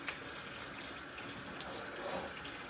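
A kitchen tap runs steadily while Brussels sprouts are rinsed, giving a soft, even hiss of water that is fairly quiet and continuous, with no talking.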